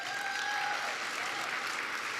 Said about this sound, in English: may we please have another round of applause for them?